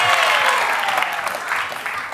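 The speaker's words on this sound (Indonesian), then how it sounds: "Oke, tepuk tangan buat Tika dan juga Cika." Studio audience applause for contestants on a family quiz game show: a bright burst of many clapping hands, loud and close, tapering slightly over two seconds.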